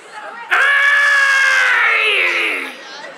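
A crowd at a live comedy show in a Monticello arena joins in a long, loud, high-pitched shouted roar imitating a gorilla, which rises suddenly and fades after about two seconds.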